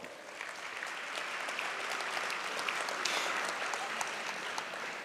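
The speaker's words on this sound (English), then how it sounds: "Let's give Paul Baker a round of applause." Audience applause for Paul Baker at the 2016 USW Academic & Athletics Award Banquet, a steady wash of clapping from a large room, sustained evenly from start to finish.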